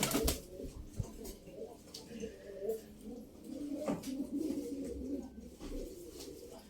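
Domestic pigeons, smoky-grey males, coo in a loft at close range, low soft cooing phrases repeating irregularly beneath faint background noise.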